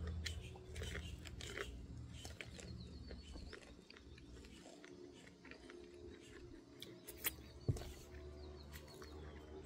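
Someone chews food close to the mouth, with continuous soft, wet crunching and mastication sounds over about ten seconds, with occasional sharper clicks and no speech.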